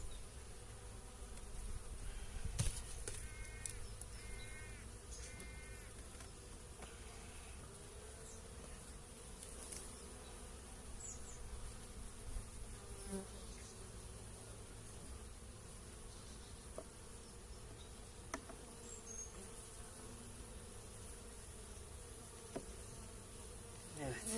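Honeybees buzz steadily around an opened beehive during a February inspection, a faint, continuous drone with occasional nearer flybys and light clicks of frames being handled.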